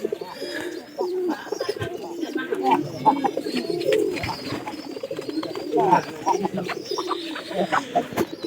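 Pigeons coo repeatedly in low, throaty bursts inside a coop, several birds overlapping close by, with a person talking intermittently over them.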